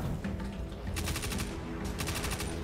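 Rapid gunfire in the video game Destiny 2, with repeated shots in quick succession over a dense, noisy game soundtrack.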